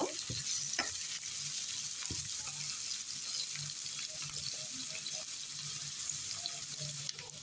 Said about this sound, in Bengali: পেস্ট দিয়ে পেস্ট একটু করে ভেজে নেব